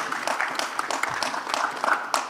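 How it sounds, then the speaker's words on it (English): An audience at a nuts and dry fruits industry conference session claps in a steady, dense round of applause, moderately loud and sustained throughout without voices. "Let's give him a warmer round of applause."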